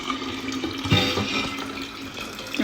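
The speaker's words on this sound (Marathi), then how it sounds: "माठ भरतोय मिश नीट भर. किती भरलंय बघ पाणी" An earthen water pot (matka) is filled at home. Close, continuous running water splashes and gurgles throughout, with a brief louder surge near the middle and no voices.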